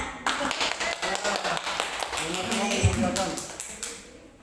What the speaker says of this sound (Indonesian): Kita beri aplaus dulu buat Bu Kris